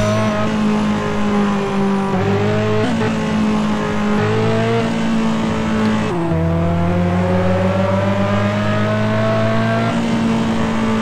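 A race car is driven around a track in Test Drive Unlimited 2 with a physics mod, its engine droning loud and continuous, pitch climbing through gears with abrupt drops at each shift, alone without talk.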